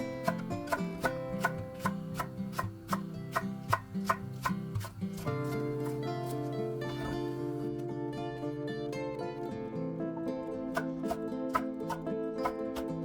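A knife slicing half an onion into strips taps against a cutting board in quick, regular chops, clearly audible beneath a steady layer of background music.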